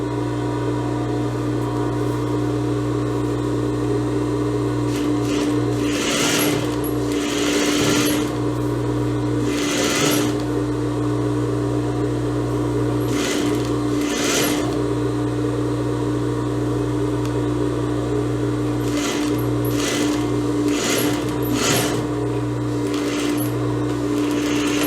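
Sewing machine stitching a topstitch seam on a blouse, a continuous motor whine with steady mechanical hum and bursts of rapid needle clatter that pause and restart several times, close and alone.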